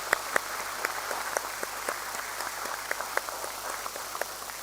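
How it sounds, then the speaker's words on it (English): An audience at the Tata Motors listing ceremony applauds with a dense patter of many hands clapping at once, steady and moderately distant, with no voices. "And I think that deserves a round of applause"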